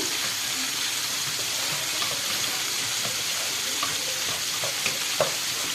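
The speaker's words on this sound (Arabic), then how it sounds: "هحمر البصلايه خالص، مش هخليها تتحرق، تصفر بس" Onion browning with spices in a frying pan, a steady sizzle running throughout with a few faint stirring clicks and scrapes near the end, no voices.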